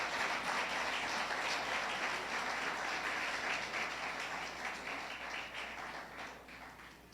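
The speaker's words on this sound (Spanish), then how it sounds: "Denle un aplauso a los que son libres en el Señor" A church congregation applauds at a Spanish-language service, a dense, steady wash of many hands clapping that carries on for several seconds and gradually fades toward the end, with no voices over it.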